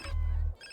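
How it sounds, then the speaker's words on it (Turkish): A phone rings once in the game GTA San Andreas, a short electronic ring tone heard alone and up close. "Bitti telefon çaldı."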